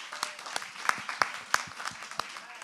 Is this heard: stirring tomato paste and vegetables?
no